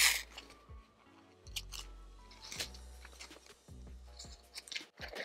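Scissors snip excess embroidery thread off a beanie, several quiet close cuts with soft rustling between them, faint and irregular.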